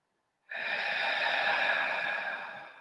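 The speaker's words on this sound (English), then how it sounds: "let's just take a few moments to breathe profoundly" A single deep, slow breath during meditation starts abruptly after a short silence and is drawn out close to the microphone, a breathy rush that fades slightly at the end.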